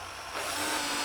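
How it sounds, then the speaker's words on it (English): A power drill drives screws into a table saw fence, a steady close whir that starts partway in and holds at a louder level to the end. "Just gonna drill in a few more."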